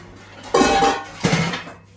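Metal baking tray pulled out and handled, two distinct clattering bursts of sheet metal knocking against other pans, close and fairly loud in a quiet kitchen.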